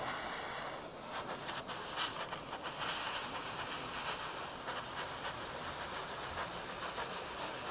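Airbrush or spray can laying a light, patchy coat of paint on a scale model, a steady soft hiss with slight pulsing, close and alone.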